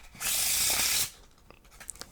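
A quick burst of playing cards riffling together, a loud crisp rush of about one second, followed by softer handling clicks.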